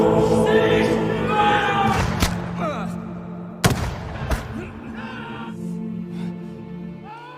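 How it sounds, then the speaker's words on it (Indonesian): Gunfire breaks out in a western film scene, with two or three sharp, loud shots cutting through a dense backdrop of voices and ambient film sound, and speech running underneath. "anak buahnya untuk berhenti menembaki Ben, tapi mereka terus menembak secara brutal."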